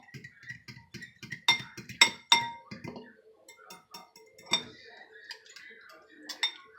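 Garlic butter being mixed by hand in a bowl, a run of quick clinking taps of a utensil against the bowl, then scattered sharper clinks, close and clear with a voice talking in between.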